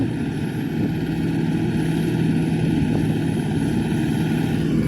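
An old SK-5 combine harvester works in a harvest field. Its engine gives off a steady, loud, low mechanical drone with a faint whine above it, continuous throughout with no talk.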